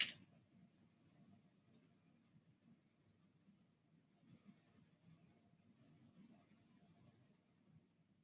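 Graphite pencil, a harder grade, rubbing in small circular strokes while shading a drawn cone on paper: a soft, steady, close-up scratchy hiss that keeps going throughout with slight swells, no voices.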